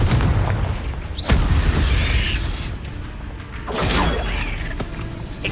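Confringo blasting spell from Hogwarts Legacy bursting in heavy booming explosions, one sharp blast near the start and another swelling roar later, over a constant rumbling battle bed with no talk.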